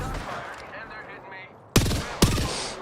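Gunfire in a video game, with faint rattling shots under the game mix followed by two sharp, loud bursts close by.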